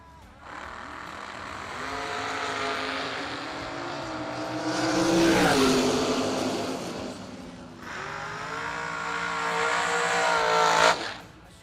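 Dragster race cars at a drag racing event, a loud sustained engine roar that builds, dips near the middle, then surges again before cutting off sharply, heard from a distance across the strip.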